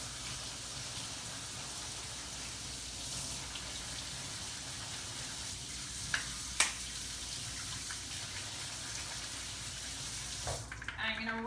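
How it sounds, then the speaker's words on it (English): Tap water runs steadily over canned black beans in a colander, a soft continuous hiss of flowing water with a couple of faint clinks, ending with louder splashing. "I'm gonna rinse."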